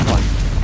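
The Stupefy spell in Hogwarts Legacy lands as a short, loud booming impact, heavy in the low end, a single close burst lasting under a second.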